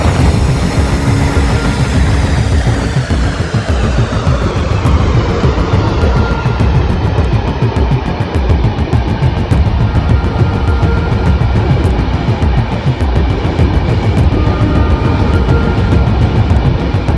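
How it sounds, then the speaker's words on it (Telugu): A train at Kurukshetra railway station, a loud, steady rumble of rolling wheels and engine noise close by that holds for the whole stretch, with a tone that slowly shifts as the train moves past. "కురుక్షేత్ర రైల్వే స్టేషన్ అండి ఇది"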